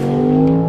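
Range Rover Sport SV with a powerful engine accelerating in sport mode, a brief loud, steady engine drone heard from inside the car.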